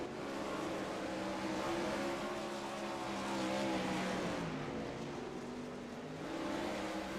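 A 410 sprint car in a racing sim game at Limaland Motorsports Park flips upside down hard into the outside wall, heard as a continuous loud roar of racing engines with tire noise, no talking.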